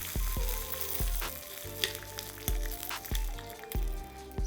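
Spiced tempering of seasonings sizzling in a hot pan, a steady frying hiss with a few sharp clicks of a spoon or pan spaced through it, fairly quiet, with no talk.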